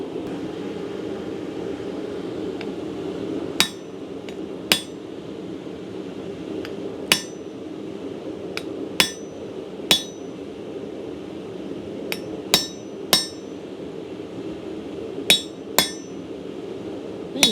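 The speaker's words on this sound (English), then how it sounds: "Next up, we're gonna grab our chisel and we're gonna come in and cut that off." Sharp metallic hammer strikes on a chisel cutting metal over an anvil, about a dozen irregularly spaced loud clanks ringing above a steady low background hum, no voices.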